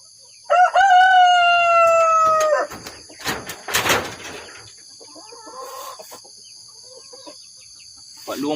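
A rooster crows loudly and close in a chicken coop, one long drawn-out call, followed by scattered clucks, rustling and softer calls from the hens.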